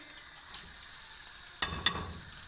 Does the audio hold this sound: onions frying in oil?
yes